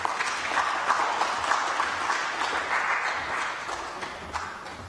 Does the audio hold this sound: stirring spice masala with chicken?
no